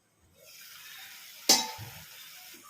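Huli chukki soppu greens sizzle quietly in a pan, with one sharp metallic clink of a stirring utensil midway and soft scraping afterward.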